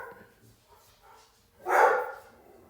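A dog gives a single loud bark close by after a stretch of faint background noise, with nothing else prominent around it.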